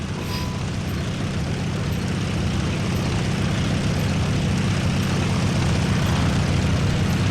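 A propeller warplane drones steadily and loudly in the Birds of Steel video game, a constant low engine roar with airy rushing above it, unbroken throughout.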